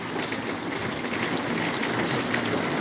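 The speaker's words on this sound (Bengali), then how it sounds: "দেখি বৃষ্টি হালকা হচ্ছে" Steady rain falls over a village street in Maharajpur, a dense even hiss with soft drop patter, continuous and close with no voices.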